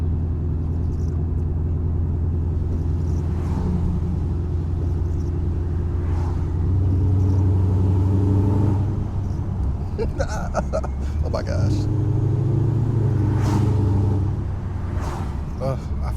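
Boosted Ford Mustang GT engine pulls under moderate throttle from inside the car, a deep droning rumble rising in pitch and loudness through the middle of the clip, with a brief exclaimed voice over it.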